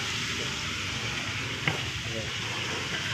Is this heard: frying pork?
yes